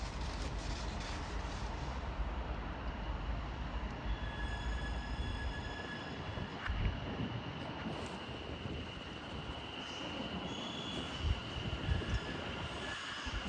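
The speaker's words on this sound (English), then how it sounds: "London North Western Railway service to London Euston." A London Northwestern Railway train to London Euston runs through Nuneaton station on the West Coast Main Line, a steady, loud rolling roar of wheels on rail with faint high squeals and wind buffeting, lasting throughout without speech.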